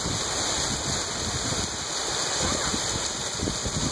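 Heavy rain downpour in a thunderstorm with hail: a steady, dense hiss of falling water that stays constant throughout, with no voices.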